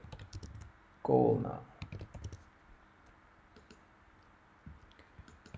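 Typing on a computer keyboard in a design app, heard as a quick cluster of close clicks followed by a few scattered taps, with a person talking over and around them.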